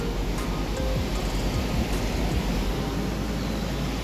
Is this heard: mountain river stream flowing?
yes